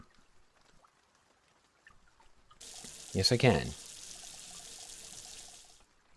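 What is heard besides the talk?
water being poured into a container for brewing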